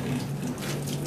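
Water is poured and splashed over a deceased body during an Islamic funeral washing at a cemetery in Taman Ibu Kota, making a steady, close, continuous running and trickling wash with no break.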